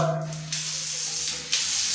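Water gushes from a bathroom shower fitted with a diverter during plumbing work, a steady rushing spray with a low hum beneath and surges where the flow strengthens.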